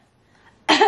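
A pet named Giro gives a single short, wet cough with phlegm, sudden and fairly loud after near silence.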